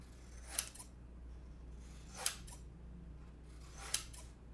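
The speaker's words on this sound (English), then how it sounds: "I'm now going to cut off the top and the bottom of the swatch, still preserving the numbers." Scissors snipping the top and bottom edges off paper gouache swatch cards, three crisp separate cuts spaced about two seconds apart in a quiet room.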